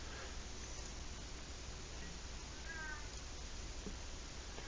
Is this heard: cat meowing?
yes